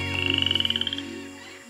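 A poison dart frog gives a rapid pulsed trill of about twenty evenly spaced notes that fades out after a second, close and clear over a low background hum.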